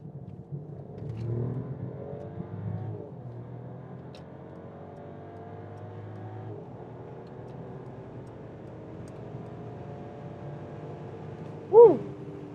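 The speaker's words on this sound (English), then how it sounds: "So it was again 50 to 170 kilometers an hour with the Mercedes S-Class" Mercedes S-Class accelerating hard in sport mode on the Autobahn from 50 to 170 km/h, a smooth, steady engine drone rising gradually in pitch over a long pull, heard from inside the cabin.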